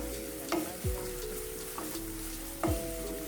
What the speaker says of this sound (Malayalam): ചൂടായതിനു ശേഷം നമുക്കിതിലേക്ക് ചെറിയുള്ളി അരിഞ്ഞത് ചേർത്ത് കൊടുക്കാം